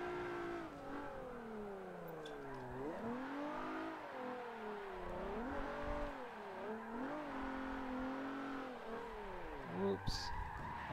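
A car in the racing game Forza 7 drifts, its engine droning steadily and rising and falling with the throttle while tires squeal continuously through the slide. The sound is loud and sustained throughout, and a voice speaks over it.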